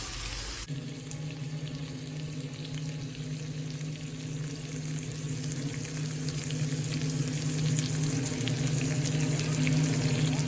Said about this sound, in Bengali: এটা অ্যাসপারাগাসের সাথেই সটে হতে থাকবে